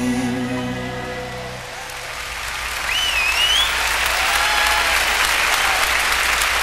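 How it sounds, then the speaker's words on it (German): Audience applause for Spain's entry at the 1992 Eurovision Song Contest in Malmö, Sweden, a dense, sustained wash of clapping filling the arena as the last sung notes fade, growing fuller and steady, with faint whistles over it. "Applaus für den spanischen Beitrag"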